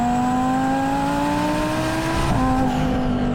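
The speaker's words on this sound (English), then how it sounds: "Listen to that blow-off valve noise." A 1,000-horsepower twin-turbo Audi R8 roars loudly from inside the cabin, its engine note climbing steadily before a whooshing blow-off valve release cuts across it.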